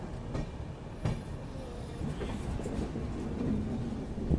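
A passenger express train rolls across points while switching tracks at low speed, a steady rumbling clatter of wheels with occasional louder knocks, heard close from on board.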